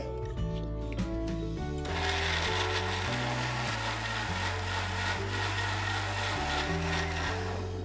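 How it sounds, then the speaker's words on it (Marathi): A mixer grinder grinding moong dal dosa batter starts up and runs steadily, its loud motor whir continuing throughout with a low rhythmic churn underneath. "आणि आता हे मिक्सरला वाटून घ्यायचे।"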